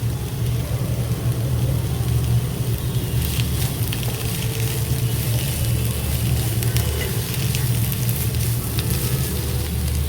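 Chicken chow mein noodles with spring onions sauté in a pan, giving a steady, unbroken hiss of frying over a low, constant hum, loud and close, with no talking.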